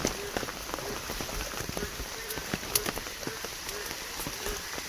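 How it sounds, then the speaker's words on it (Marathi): Heavy rain pours steadily at night in the first rains, drops spattering densely on surfaces with scattered sharper splashes, a continuous loud hiss throughout with no voices. "पाऊस आहे ना चालू आहे जोरदार"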